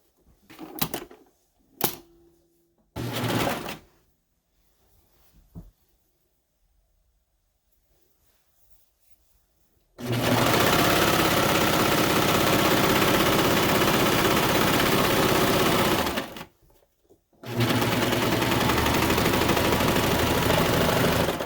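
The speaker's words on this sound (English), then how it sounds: "And sew down the other side of our front." A sewing machine stitches down the front of a skirt, running in two long loud mechanical bursts separated by a brief stop, after a quieter stretch of scattered handling noises.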